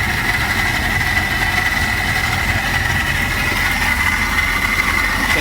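A MerCruiser 5.7 inboard boat engine with an Alpha drive idles steadily and continuously, a low rumble with a constant whine on top, close by and with no voices.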